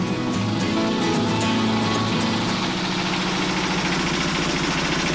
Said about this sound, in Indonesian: kedelai yang sudah direndam kemudian digiling dengan mesin